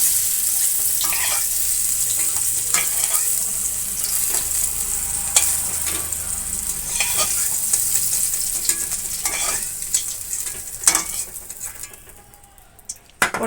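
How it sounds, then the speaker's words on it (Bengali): Pointed gourd (potol) fries in oil with a steady, close sizzle and occasional scraping clicks as the pieces are turned, before the sizzle drops away near the end. "আমার পটলগুলো আমি এপিট ওপিট করে বেশ ভালো করে ভেজে নিয়েছি।"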